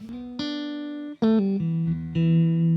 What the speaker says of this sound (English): Sounds like a Strat.